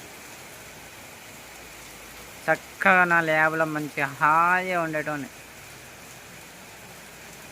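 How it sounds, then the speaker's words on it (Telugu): A light rain drizzle falls as a steady soft hiss throughout, with a person talking briefly over it in the middle. "ఇంత మస్తు జల్లు జల్లు మస్తు జల్లు జల్లు కొడుతుంది కదా"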